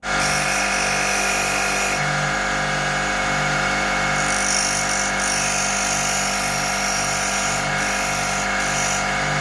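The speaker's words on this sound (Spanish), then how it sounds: "Una vez que tengamos entonces el clavo en posición, vamos a cortarlo y hacerle la punta." A power tool cuts a nail and grinds a point on it while a carpenter builds a marking gauge. A loud, steady motor whine runs throughout, with brief shifts in tone as the metal is worked.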